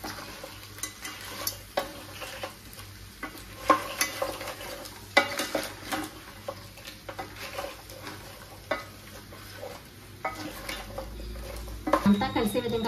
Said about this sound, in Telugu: అంతా కలిసే విధంగా కలిపి ఒక 5 నిమిషాలు ఆయిల్లో మగ్గనివ్వాలి